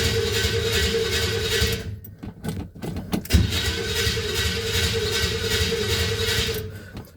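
A 1978 Chevy C10 pickup engine cold-starting after a long idle: the starter cranks briefly, then the engine catches and settles into a steady, loud, close idle.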